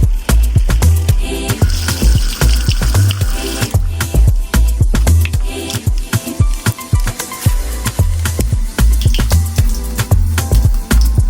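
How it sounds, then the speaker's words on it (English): Water runs into a sink while makeup brushes are washed, with close splashing, dripping and squishing bursts in an irregular rhythm. "I'm going to go ahead and wash my brushes"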